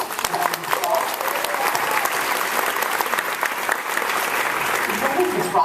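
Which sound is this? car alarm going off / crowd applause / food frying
crowd applause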